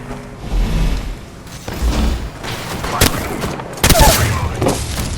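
Gunfire in the battle royale shooter Apex Legends, with sharp bursts of shots and booms over a steady game background, including a loud crack near the middle and another cluster of shots later.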